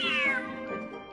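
Video game cat meows once, a clear, fairly close drawn-out mew that falls in pitch and trails off into quieter game sound.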